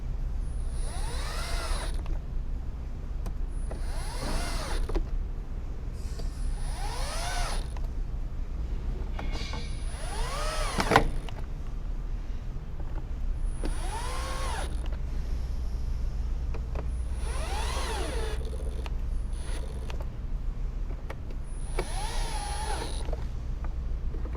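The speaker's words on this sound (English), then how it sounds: "take your ratchet or your cordless drill if you have one like me" A cordless drill drives screws into the plastic engine air filter housing of a Mk1 VW Tiguan, whirring in about eight short bursts, each rising and falling in pitch, separated by brief pauses of quiet background hum.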